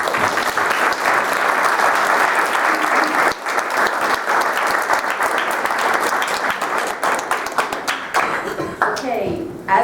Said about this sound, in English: So I think we owe him a round of applause for doing that.